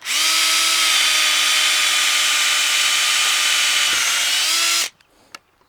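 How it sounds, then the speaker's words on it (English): A power drill bores a hole into a wooden stair riser while a deck stair rail is being built. A loud, steady high whine runs for about five seconds, then stops with a couple of small clicks. "when drilling my top hole, I want to make sure I don't drill into this step, and I drill into the riser."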